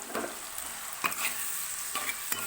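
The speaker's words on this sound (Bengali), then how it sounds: "দিয়ে মশলাটাকে একটু কষিয়ে নেব" Spice paste for chana dal, moistened with a little water, frying in a pan: a close, steady hiss broken by a few quick scraping stirs, no speech.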